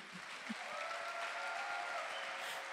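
A church congregation applauds and cheers for Jesus, a steady wash of clapping from a crowd heard at moderate distance, fairly faint.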